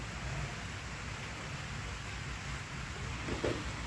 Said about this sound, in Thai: ฝนกำลังตก โปรยโปรยนะคะ